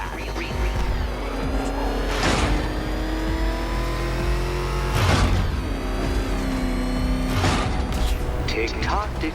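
The Batmobile's engine revs hard in Batman: Arkham Knight, a steady loud motor roar that surges about three times. Game music and effects play underneath.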